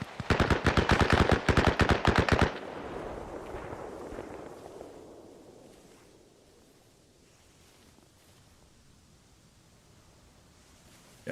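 A rapid burst of automatic gunfire in the military shooter game Arma Reforger, about a dozen sharp close shots in quick succession, then a long fading echo and quiet ambient tail.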